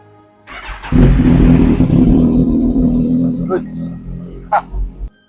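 A Yamaha NMAX scooter left unused for two months starts up, cranking briefly and then settling into a loud, close idle that holds steady, with a couple of short voice or dog-like sounds near the end.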